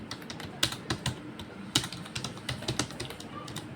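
Keys clatter on a computer keyboard as a product name is typed, a quiet, uneven run of close individual keystrokes.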